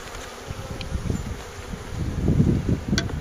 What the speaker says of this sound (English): The bees are so mad at me.